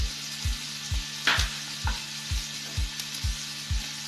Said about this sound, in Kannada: ಶುಂಠಿ ಮತ್ತು ಹಸಿಮೆಣಸಿನಕಾಯಿ 1 ನಿಮಿಷ ಹುರ್ಕೊಂಡ ನಂತರ ಸಣ್ಣ ಕಟ್ ಮಾಡಿಟ್ಕೊಂಡಿರೋ ಈರುಳ್ಳಿ ಹಾಕ್ಕೊಳ್ಳಿ.